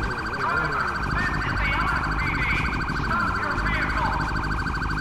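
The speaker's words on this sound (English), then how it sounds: "turn off that siren, bro" A police siren wails continuously in the GTA 5 video game, loud and steady throughout, with its rising and falling tones running over engine rumble and faint game sounds.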